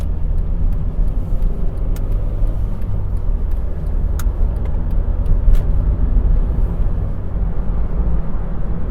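A car pulls away from a roundabout, its engine and road rumble loud and steady, with a few faint clicks along the way.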